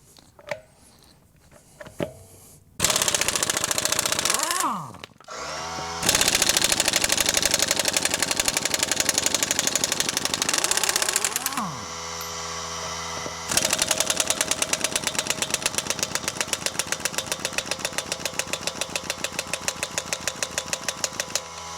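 A small air compressor drives a pneumatic impact wrench loosening car lug nuts. After quieter stretches come loud bursts of rapid hammering rattle, the longest a sustained chattering run near the end, all heard close up.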